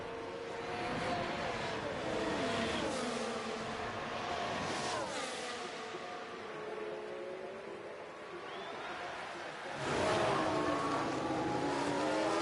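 Formula 1 race cars in F1 Manager 24 at the Montreal circuit whine past with rising and falling high-pitched engine tones, fading and then surging again as another car screams by near the end, with no talk.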